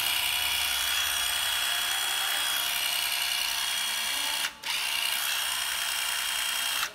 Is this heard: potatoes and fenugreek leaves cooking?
no